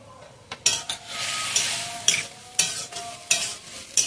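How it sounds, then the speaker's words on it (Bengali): Soybean chunks, potato and pointed gourd sizzle in a pan with spices while a utensil stirs and scrapes in regular strokes, each scrape rising sharply over the steady frying hiss, close up with no talk. "এটা একটু ভালো করে কষিয়ে নেবো একসাথে।"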